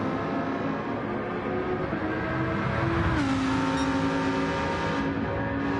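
Lamborghini Huracan race car engine in a Gr.4 racing video game, a steady loud drone with a rising rev and gear change midway, continuous throughout with no talk.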